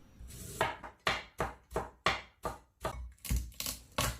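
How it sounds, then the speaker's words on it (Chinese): A kitchen knife shreds fresh ginger on a cutting board with about a dozen crisp, evenly spaced chops, close and clear, with no talking. "先来切一些姜丝"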